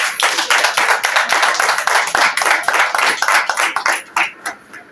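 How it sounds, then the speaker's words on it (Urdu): An audience at a church gathering claps together, a loud, close patter of many hands with a loose rhythm that thins out and fades over the final second. "تالیاں بجائیں۔"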